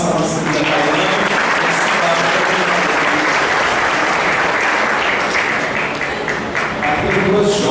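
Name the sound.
congregation applauding at a church Mass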